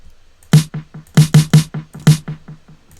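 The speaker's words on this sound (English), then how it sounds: "So originally the snare sounds like this." Unprocessed snare drum sample repeated in a rhythmic pattern, sharp close hits with a tonal body and bright crack, some stronger accented strikes among softer ones, no talk.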